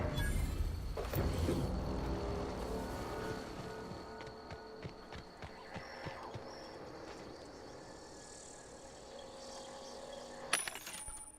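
A vending machine in the sci-fi RPG The Outer Worlds gives off a dense electronic hum and chime under a layered soundscape, with a brief sharp clink near the end.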